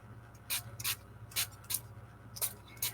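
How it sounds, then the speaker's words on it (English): A spray bottle sprays water onto small watercolour inchies in quick, sharp hissing spritzes, close and distinct, over a low steady hum. "We'll give them 2 spritz."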